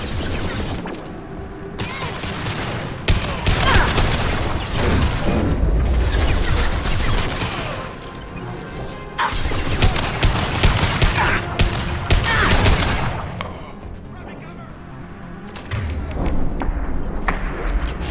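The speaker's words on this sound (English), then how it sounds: "Firing a high-impact shot!" Mass Effect 2 gunfire in a game firefight: dense bursts of shots and heavy thuds pound almost continuously, with brief lulls between volleys.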